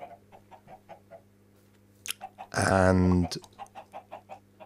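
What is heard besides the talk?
chickens clucking in the video game Minecraft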